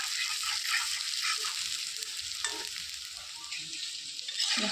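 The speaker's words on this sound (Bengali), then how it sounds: "আলুটা ভাজা হয়ে গেছে" Potatoes fry in a pan with a steady, crackling sizzle and occasional stirring scrapes, close and continuous with no talking.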